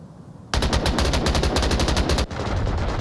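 Rapid automatic gunfire exchanged in a multiplayer shooter: a sudden, loud stream of evenly spaced shots runs for almost two seconds, breaks briefly, then gives way to a denser, more distant rattle of continued firing.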